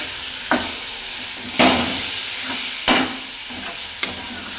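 A spoon stirs tamarind and salt into tomato-mint chutney in a sizzling pan, making four or five distinct scraping strokes over a steady frying hiss.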